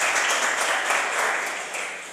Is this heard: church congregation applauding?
yes